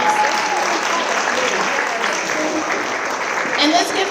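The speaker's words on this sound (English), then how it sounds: "You all need to give yourselves a round of applause." A conference audience applauds after a panel of Latina leaders, dense steady clapping filling the room for several seconds with a slight swell near the end.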